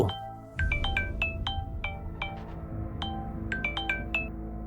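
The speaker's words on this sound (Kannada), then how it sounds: "ಅವನಿಗೆ ಒಂದು ಫೋನ್ ಬಂತು." A phone ringtone chimes in a repeating melodic pattern of bright tones over a low background hum, with no voices.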